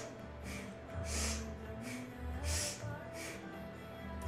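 Breathing during a kundalini breath exercise: several soft rhythmic breaths in and out, close and fairly quiet, with no talk.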